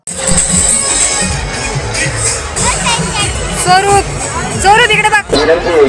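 Dense crowd babble at the Ekvira Devi temple fair in Dhule, with many overlapping voices, some children's shouts and loud nearby talk throughout.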